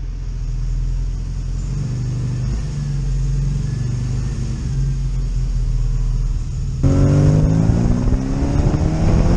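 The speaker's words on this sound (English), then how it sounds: "So now that we've got Deano's car running" A classic Mini engine idles steadily after clutch repair with a low, continuous rumble, then rises in pitch and loudness near the end as it is revved, heard close up without talk.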